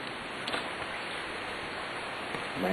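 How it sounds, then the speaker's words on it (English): Rain falls outside an apartment in a soft, steady, faint hiss. "It's raining outside."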